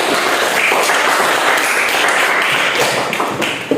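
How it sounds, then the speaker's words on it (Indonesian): A classroom group claps for a presenting group at the end of a teaching-practice session, dense steady applause from many hands filling the room at full strength and tapering slightly at the close. "Ya, berikan aplaus untuk"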